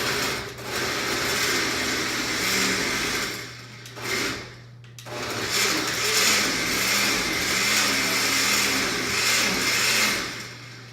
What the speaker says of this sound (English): And so with the blender, I set this on a puree speed.